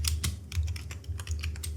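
A prompt typed on a computer keyboard, a quick run of about a dozen crisp key clicks in an uneven rhythm, close and clear over faint background hum.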